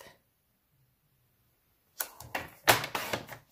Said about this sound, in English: Just cut it at 4 1/8.